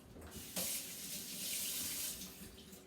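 Apples are rinsed under a running kitchen tap, making a close, splashing gush of water that rises sharply about halfway through and then flows steadily.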